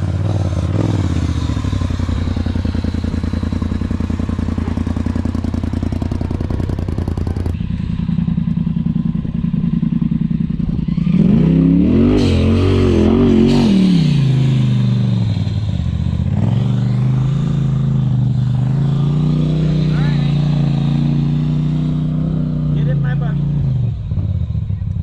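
Off-road vehicle engine straining up a rock climb in Moab, a loud continuous rumble that rises and falls as it works over the rocks, with clatter and thumps and people talking throughout.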